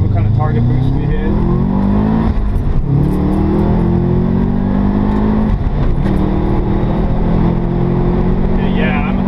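A 2014 Subaru WRX accelerates hard on a highway on-ramp, its engine note rising steadily with turbo spool building underneath, loud and continuous with a brief shift break partway through.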